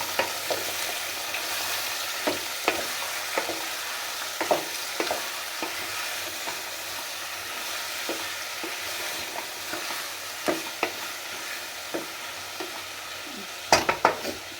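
Vegetables and field beans being stirred and tossed in a sizzling pan, with a steady frying hiss and scattered scraping clinks of a spoon against the metal that grow busier near the end; close, with no talking.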